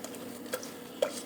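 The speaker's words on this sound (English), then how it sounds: "And I've just got to stir this." Vegan buttercream being stirred in a bowl in a home kitchen, quiet soft scraping strokes with a couple of light clinks of the utensil against the bowl, no talking.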